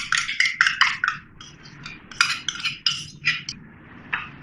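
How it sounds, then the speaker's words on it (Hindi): A whisk or spoon beats yogurt into a beef Bihari kebab mixture with mustard oil in a bowl, giving quick bright metallic clinks and scrapes in uneven bursts, close and alone. "दही डाल दूँ तो फेंट लेंगे"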